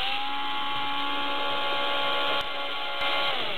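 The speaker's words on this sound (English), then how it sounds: "you could use a power drill with a very small drill bit." A power drill with a very small bit bores into plastic with a steady, high whine, close and fairly loud, broken by two brief dips near the end.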